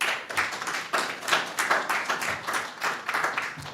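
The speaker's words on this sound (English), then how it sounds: "with a warm round of applause, let's welcome him on stage" A crowd at an art exhibition and book launch claps to welcome the Deputy Mayor of the Royal Borough of Greenwich on stage; a smaller group claps nearby in a brisk, rhythmic pattern with distinct individual hand strikes.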